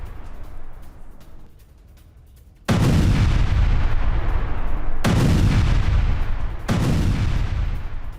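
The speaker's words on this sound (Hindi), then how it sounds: "ये वही ब्लास्ट है जिसके जरिए हिजबुल्लाह की सुरंग को आईडीएफ ने उड़ा दिया है" A controlled IDF blast destroying a Hezbollah tunnel: a sudden loud, deep boom after a quieter rumble, followed by two more heavy thuds and a sustained roar, with no voices.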